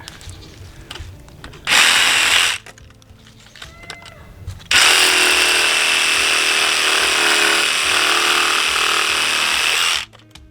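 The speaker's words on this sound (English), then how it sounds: "I normally use this little brushless Ryobi with a pruning blade on it" A small brushless Ryobi saw fitted with a pruning blade cuts through tree limbs, giving a loud, close, high-pitched whine in a short burst followed by a longer sustained cut, with quieter handling noise between.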